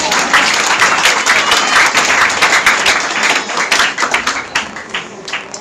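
A church congregation applauds and cheers in praise of the Lord, dense rapid clapping filling the space for several seconds before thinning slightly toward the end, with a few voices mixed in.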